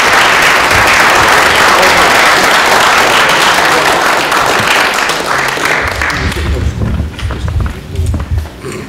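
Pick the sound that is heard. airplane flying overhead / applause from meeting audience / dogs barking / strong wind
applause from meeting audience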